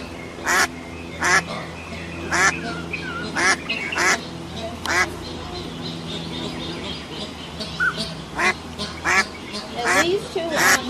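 Ducks swimming with ducklings on a pond quack in loud, regular bursts roughly every half second to second, close by, over a steady outdoor background with people talking in between.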